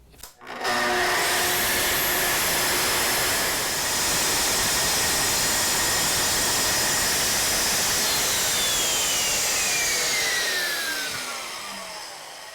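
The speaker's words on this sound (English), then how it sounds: "Here I'm ripping the material to width, 3/4 inch plywood, 80 millimeters wide." A saw rips 3/4 inch plywood to an 80 millimetre width, a loud, steady broadband roar that holds evenly for the whole cut and eases slightly near the end, with no talking.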